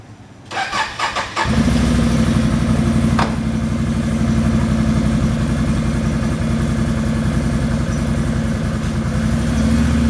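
A utility vehicle engine cranks with a few quick starter bursts, then catches and settles into a steady, loud, close idle that runs on without pause.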